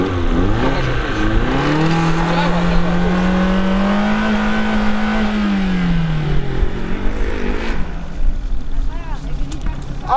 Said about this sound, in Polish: Ale spaliłem gumę.